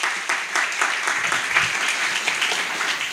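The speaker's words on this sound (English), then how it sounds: "Let's give him another round of applause" A round of applause from an audience at an indoor youth camp session, sustained dense clapping throughout, close and fairly loud.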